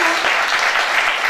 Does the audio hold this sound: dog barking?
no